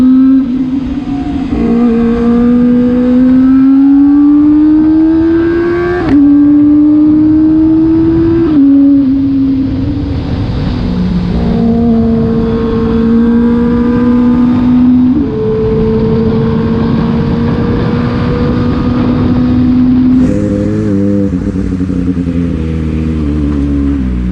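A Kawasaki ZX25R and a Kawasaki Z800 ride along together, their engines loud and close, rising in pitch through each gear and dropping at the shifts, with no talk.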